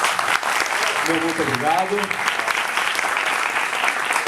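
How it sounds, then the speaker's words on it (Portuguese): Audience at a debate applauding, a dense continuous wash of clapping throughout, while someone speaks briefly over it. "uma salva de palmas"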